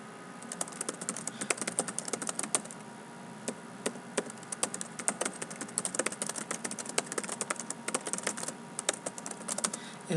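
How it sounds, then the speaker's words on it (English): Fast typing on a computer keyboard into a Microsoft Word document, a dense, quick run of crisp close-up key clicks continuing steadily with no talking. "sometimes I do when I'm typing fast"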